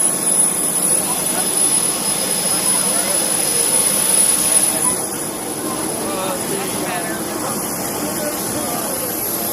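A Boeing 787 jet engine fan at the 2011 Oshkosh airshow gives a steady, loud broadband roar that drops a little partway through, with people's voices faintly mixed in.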